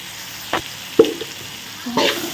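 Eggplant dusted with chili powder sizzles and is stirred in a frying pan, with a steady bright hiss broken by a few distinct scraping strokes of the spoon, close and fairly loud.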